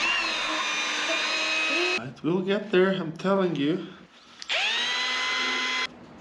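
A power drill shaves a skateboard part, whining loudly in two long steady bursts, with someone talking between them.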